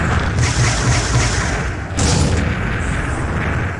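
Heavy, overlapping explosions as satellite turrets are destroyed in the space combat game Starlancer, loud rumbling booms layered with continuous roaring effects and no pause.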